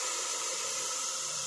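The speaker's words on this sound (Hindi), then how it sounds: "अब इसके अंदर हम जो हमने टमाटर की प्यूरी रखी थी वो डाल देते हैं।" Tomato puree poured into a pan of frying garlic for Sindhi dal, giving a steady, close hissing sizzle with no voices over it.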